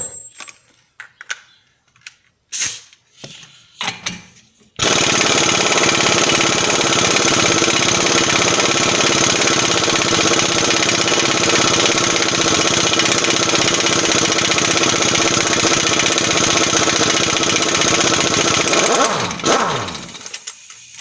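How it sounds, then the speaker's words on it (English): Air compressor running steadily during a front CV axle removal on a Mercury Montego/Ford 500, a loud continuous mechanical roar that kicks in abruptly after scattered clanks and rattles, holds for about fifteen seconds, then winds down. "turn the air compressor back on, and continue moving forward"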